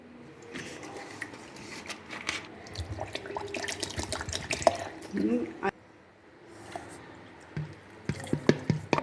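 Milk pours and splashes into a blender jar in uneven bursts, with drips, clinks and a voice speaking briefly.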